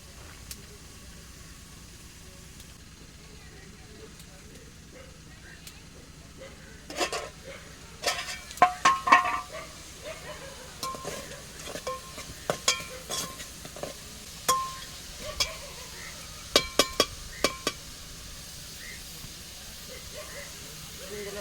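A pot of okra and fish curry simmers with a low, steady hiss, while a spoon clinks and scrapes against the pot in scattered bursts.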